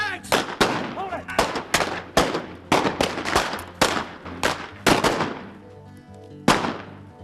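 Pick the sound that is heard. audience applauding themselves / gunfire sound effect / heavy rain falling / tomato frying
gunfire sound effect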